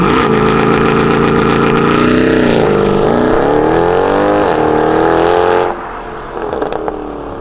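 Mercedes-Benz C63 AMG Performance estate (W204) with its naturally aspirated 6.2-litre V8, loud and close, droning steadily with rising and falling revs before dropping to a quieter idle near the end.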